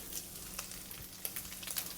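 Minced pork sizzles and crackles in hot shallot oil, a steady frying hiss with small pops throughout, close and fairly quiet.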